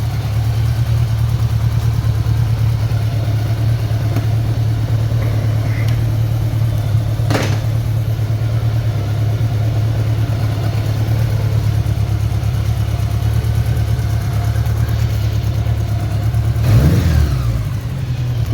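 A budget bobber motorcycle engine runs steadily at a loud, close idle throughout, with a brief rev rising and falling near the end.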